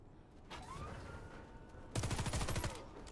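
A Beretta MX4 Storm submachine gun fires in Warface PvP on Xbox One, a short early volley and then a louder rapid burst of about a dozen shots, quiet and compressed in the game mix.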